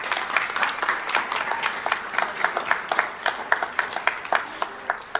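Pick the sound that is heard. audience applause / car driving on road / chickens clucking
audience applause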